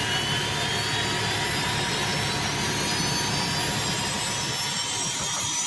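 Military aircraft jet engine roaring steadily and loud, a continuous broadband whine with a deep rumble and no break, without any talking.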